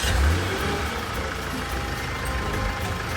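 A car engine comes back to life after servicing in a film scene, running with a steady, close, broadband roar that holds evenly throughout without pauses.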